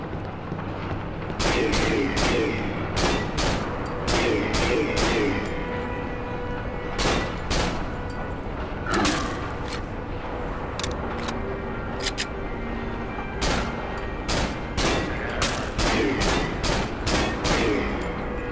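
Gunfire from a gun in the video game Cry of Fear, loud sharp shots fired in irregular bursts and single cracks across the whole stretch over a dense, noisy game backdrop.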